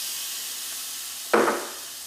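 Tomatoes land in a hot pan with a sudden brief sizzle over a steady background hiss, then settle back to a low simmer.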